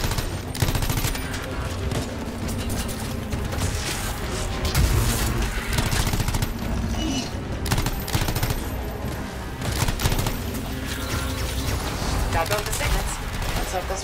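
Rapid pistol gunfire in the video game Anthem, dense bursts of shots with booms and explosions layered through a loud, continuous battle mix; a player speaks briefly over the fighting.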